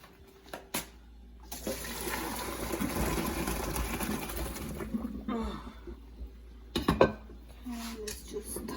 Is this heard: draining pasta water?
yes